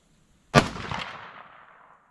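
A single .22 rifle shot fired at a 550-yard range: one sharp, loud crack that tails off smoothly over about a second and a half, with near silence before it.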